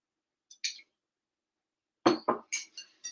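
A spoon scoops a pickle of red onion, cucumber and daikon radish with dill into a dish, giving a few short, close clinks and taps of metal on dishware in a quiet room.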